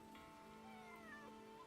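A cat meows inside the video game Where Winds Meet, giving a few soft, faint, drawn-out mewing calls over a steady hum of game ambience.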